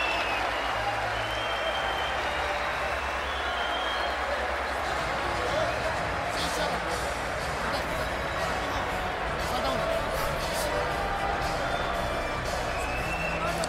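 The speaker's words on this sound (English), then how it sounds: "Crowd roars." Boxing arena crowd roaring after the 11th round of the Matthysse vs Provodnikov fight, a dense, sustained wall of cheering and clapping that stays loud throughout, with voices talking over it.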